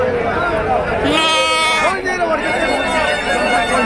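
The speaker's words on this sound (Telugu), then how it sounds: "మంచి మంచి పొట్టేళ్ళ పిల్లలు" Lambs bleat over one another at a busy sheep and goat market in Kunta, the cries loud and close over a dense hubbub of crowd chatter.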